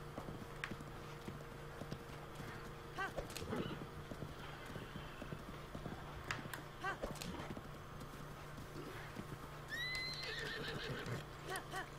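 A horse in The Legend of Zelda: Breath of the Wild whinnies near the end, after steady clip-clop of hooves walking along; the game sounds stay fairly quiet, with some faint talk and scattered clicks throughout.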